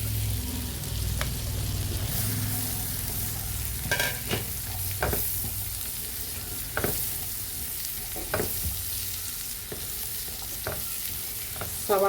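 Chopped onion fries in a pan under a constant close sizzle, punctuated by repeated spatula scrapes and knocks as it is stirred, with no voices.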